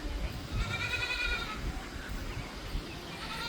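Goats bleat on a 55-acre Maine homestead farm, several calls rising over rustling ambience, fairly close, with no talk over them.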